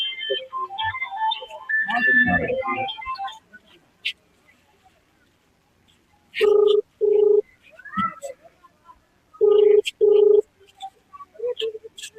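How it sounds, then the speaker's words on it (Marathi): Phone ringback tone while calling a municipal garbage supervisor: two double-pulse rings sound in the second half, after an earlier stretch of talk and background noise. "एक मिनिट परत फोन लावून बघतो त्यांना"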